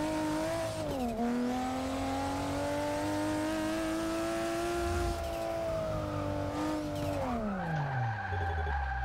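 A stock street-tuned car drifting in the video game Forza Motorsport 6, its engine holding a high, steady rev with tyre squeal underneath, dipping and recovering in pitch, then winding down near the end.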